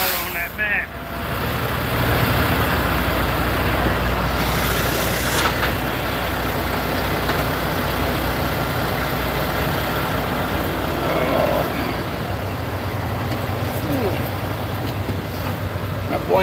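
A vehicle engine held at full throttle in a Los Angeles Coliseum parking lot, a loud, steady roar that holds for the whole stretch, with people talking over it.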